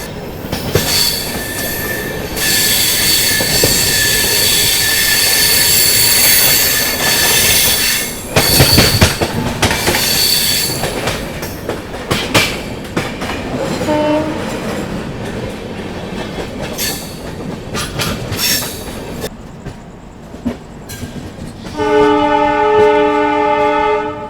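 The 12430 New Delhi–Lucknow AC Superfast Express runs loud and close, wheels rumbling and clattering over the rails with bursts of squealing, the noise rising and easing until a tonal horn-like blast near the end.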